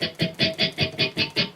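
Palm-muted electric guitar chords in a verse style, strummed with the picking hand resting too far forward so they sound scratchy: eight short choked strums in an even, quick rhythm, close and clear with no talking.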